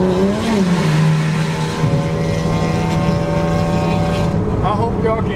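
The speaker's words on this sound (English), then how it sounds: "This is a Mustang that's trying to race us. It's an automatic V6." Automatic V6 Ford Mustang racing alongside on the road, its engine a loud, close, sustained drone with shifting pitch, heard from a neighbouring vehicle while voices talk faintly underneath.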